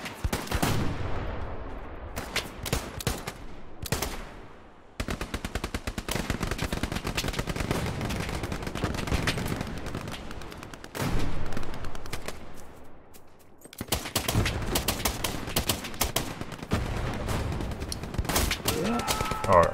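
Rapid machine-gun bursts and sharp rifle shots crackle through a battle in the Hell Let Loose video game. The fire comes in repeated clusters, some near and loud, others more distant, with brief lulls between.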